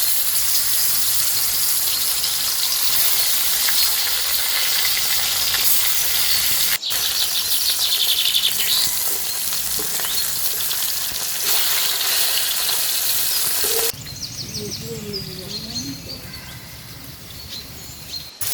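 Koi fish coated with salt and turmeric fry in hot oil, a loud continuous sizzle and hiss that holds steady and then drops to a softer, bubbling crackle near the end.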